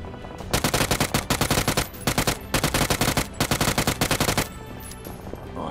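Automatic rifle fire in the video game PUBG, a loud close burst of rapid shots in several strings separated by brief pauses, with no talk over it.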